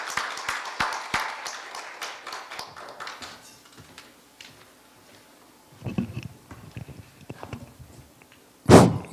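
Lecture audience members clap in a brief burst of close, brisk claps that soon thins out, followed by scattered taps, shuffling and a sharp thump near the end.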